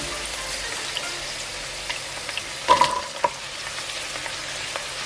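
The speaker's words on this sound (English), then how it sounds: "These that I'm adding into the oil now take a bit more time to cook than the corn" Carrots fry in olive oil in a pan, giving a steady close hiss with a brief burst of louder crackle and scraping midway, no voices present.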